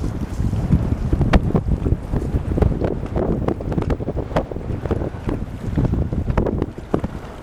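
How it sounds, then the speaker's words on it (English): Strong wind at Cottonwood Lakes buffeting the microphone in steady roaring gusts, with lake water sloshing underneath and no voices. "Pretty windy."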